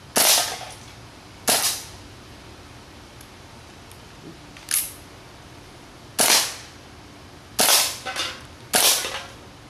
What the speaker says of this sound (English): we're going to do a little test fire on a couple of cans just to make sure everything's firing properly